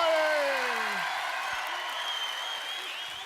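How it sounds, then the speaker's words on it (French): An audience at an afternoon ceremony in Deauville applauding itself, with clapping and a few cheers that fade quickly, while sliding tones from a voice or instrument sound over the start. "Et vous pouvez à nouveau vous applaudir."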